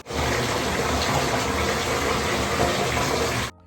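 Shower water gushing steadily while a dog is bathed indoors, a loud continuous spray that runs unbroken for about three and a half seconds and then stops abruptly.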